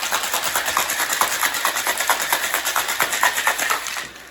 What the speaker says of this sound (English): put it in the shaker with some ice, and I know this is making a lot of noise, so I'm going to shake vigorously